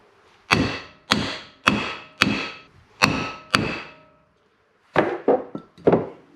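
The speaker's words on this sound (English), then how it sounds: "I've got this little block of wood here, a hammer." A hammer strikes a small wooden block in a steady series of sharp, hollow knocks while seating a part on a 1994 Chevrolet S10, then a quicker cluster of lighter taps after a short pause.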